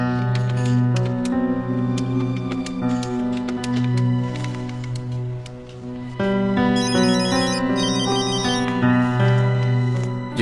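A phone ringtone plays continuously and loudly, a repeating electronic melody with a brighter chiming layer joining partway through; no voices.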